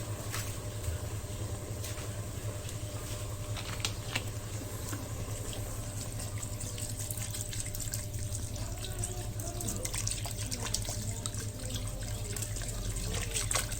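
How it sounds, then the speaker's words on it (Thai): Water poured into a pot for Thai Isan-style chicken curry with mixed vegetables, a steady, fairly quiet running stream over a low background hum, continuous throughout. "เติมน้ำแล้วใส่พวกผักพวกอย่างปรุงเครื่องครับ"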